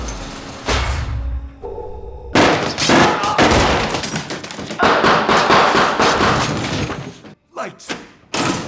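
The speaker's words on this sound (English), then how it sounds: "Gunfire echoes through the fields while the family fights desperately to survive." Loud bursts of gunfire with heavy thuds and crashes, shots cracking in rapid clusters, then brief pauses before more blasts.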